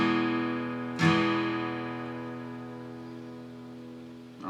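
Guitar chord from a song, strummed on only the lower four strings: a ringing chord decays slowly, then a single sharp strum hits and sustains, with another beginning at the very end.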